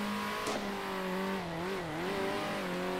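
Race car in Circuit Superstars sliding sideways on worn-out tyres: a steady nasal engine drone with wavering pitch as the car slithers, a brief sharp transient near the start, no talking.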